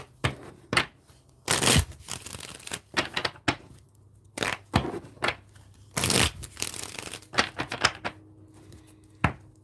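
Tarot cards being shuffled by hand in repeated bursts of riffling and slapping, with short pauses between flurries, fairly close and moderately loud with no talking.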